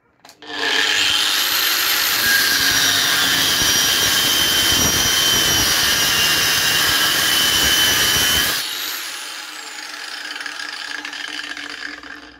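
A Parkside or Bosch angle grinder set to speed four cuts steadily with a loud, high, sustained whine, then the cut ends and the motor spins down more quietly.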